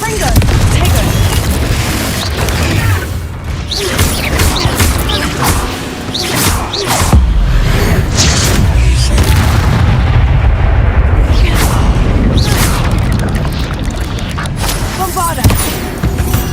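Explosive blasting-curse booms from a Harry Potter video game, a dense run of loud detonations and crashing impacts over about sixteen seconds, mixed with game voices and shouting throughout.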